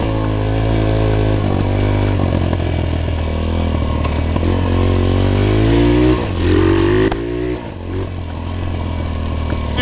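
A cheap $50 pit bike's small single-cylinder engine runs loud and close, holding a steady buzzing rev that rises and dips with throttle blips, straining near the top end, with no talking.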